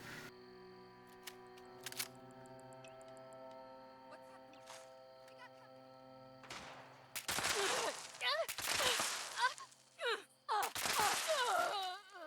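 Bloodied Handmade rifle gunshots in Fallout 76, a run of loud sharp bursts in the second half after a quieter stretch of game ambience and interface tones.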